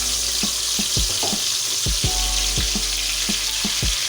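Chicken tikka pieces frying in a pan in a commercial kitchen, a loud steady sizzle punctuated by repeated sharp clacks of utensils against the pan.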